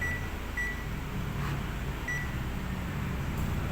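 Continuity buzzer of a multimeter testing the ground pin of a Sharp refrigerator potentiometer, sounding as a few short, faint electronic beeps over a steady hum.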